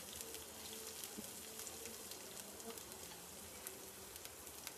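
Raw banana slices fry in a pan with turmeric and garlic, giving a quiet, continuous crackling sizzle with small pops throughout.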